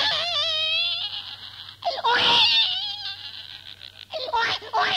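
A voice imitates a small baby wailing and fretting for milk, with rising and falling cries, a sob-like burst in the middle and more whimpering toward the end, delivered loud and close in a comedy performance.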